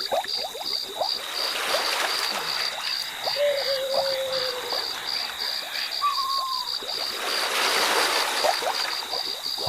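Water laps softly around a fishermen's boat on a village pond in Bengal, with faint irregular splashes and trickles beneath a steady, high insect chirr.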